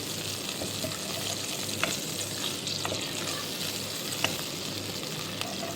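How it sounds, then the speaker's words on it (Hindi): Ginger garlic paste frying in a pot gives a steady, close hiss with a few light scrapes of stirring now and then. "भूनेंगे ताकि अदरक लहसुन का कच्चापन अच्छी तरीके से ख़त्म हो जाए"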